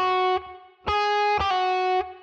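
A distorted electric guitar plays a short pentatonic phrase of three sustained notes without a grace note, each ringing clearly and cutting off cleanly.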